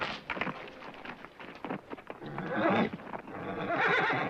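A horse neighs and whinnies loudly at close range, with a snorting, shuddering tone and some shuffling hoof sounds around it.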